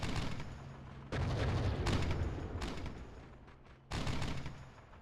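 Gunfire crackles in dense, continuous bursts with two sharp louder onsets, steady and fairly close, with no voices over it.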